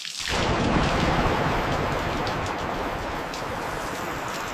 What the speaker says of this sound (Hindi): बारिश आ रही है